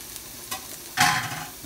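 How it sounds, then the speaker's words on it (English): Onions and chopped garlic sizzle in a skillet as they are stirred, a brief close burst of frying hiss that swells after a small first scrape. "I'm going to put my onions in the skillet and get them nice and brown."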